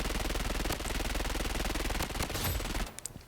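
Rapid, continuous automatic fire from an Uzi submachine gun shot from the hip in the Blood Strike shooter game, a loud unbroken burst of closely spaced shots that cuts off abruptly near the end.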